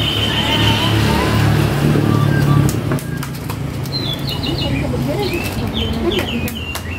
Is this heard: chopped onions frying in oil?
no